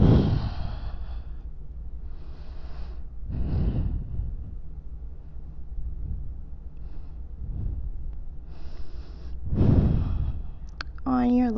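Slow, deep breathing held through a yoga pose, several long audible exhales and inhales spaced a few seconds apart, close and soft, with a brief voice near the end.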